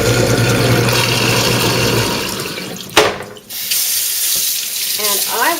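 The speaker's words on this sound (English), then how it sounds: "I'm going to run my garbage disposal for just a second and get this water down." A kitchen garbage disposal grinds as tap water runs and drains down the sink, a loud steady rush that cuts off abruptly midway, leaving a lighter trickle and a few clinks.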